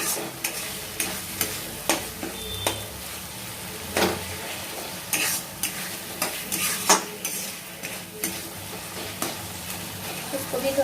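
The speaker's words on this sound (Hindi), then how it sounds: "इसको भी थोड़ा सा टमाटर को मसाले के साथ अच्छे से भून लूँगी।" Chopped tomatoes with spices fry in oil in a pan for a potato and pointed gourd sabzi, giving a steady sizzle with repeated scraping stir strokes and a few clinks of a utensil.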